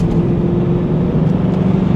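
A 2000 Pontiac Trans Am WS6 cornering gives a loud, steady engine drone with a low rumbling hum and road noise, holding an even pitch throughout.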